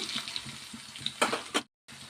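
Fenugreek and mustard seeds fry in hot oil in a pan, a close hissing sizzle with a couple of sharper crackling bursts before a brief silence.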